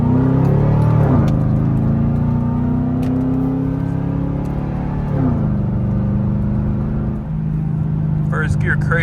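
A Chevrolet Camaro SS engine revs up hard in first gear from inside the car, its tone climbing, dropping at each shift, then climbing again as a steady, loud drone that runs through the whole stretch.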